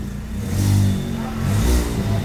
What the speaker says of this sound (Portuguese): O barulho dele tá bem tranquilinho